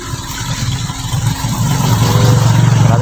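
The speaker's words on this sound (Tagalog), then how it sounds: "kaya may mga dumadaan na motor" A motor vehicle on the road passes close by, its mid-pitched engine rising and growing louder over about three seconds as it accelerates past.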